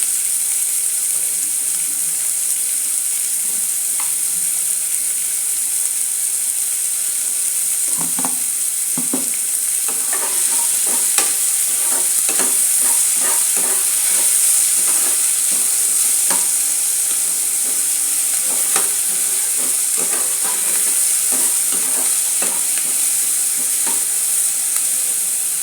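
Onions sautéing in a pan with a little salt for potato masala, a steady bright sizzle close by, joined about a third of the way through by repeated scraping stirs.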